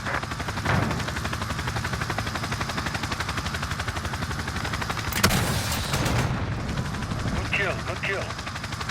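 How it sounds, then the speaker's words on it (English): A chopper gunner helicopter in a multiplayer shooter video game fires rapid, repeated cannon rounds at middling distance, with rotor chop and a sharper burst of fire midway, all under in-game voice chatter. "I call in a chopper gunner as well to try and provide more clear callouts"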